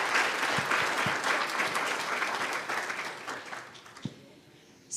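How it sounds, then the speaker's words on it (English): An audience gives a round of applause for the speakers at a talk, a dense burst of clapping that thins out and fades over a few seconds, ending with a few scattered claps. "give them a round of applause"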